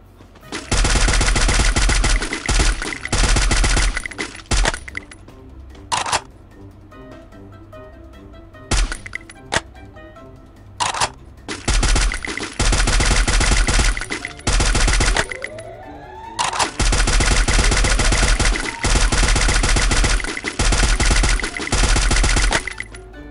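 Gunfire in Garena Free Fire, long dense bursts of loud automatic shots broken by short pauses and scattered single shots, close and continuous.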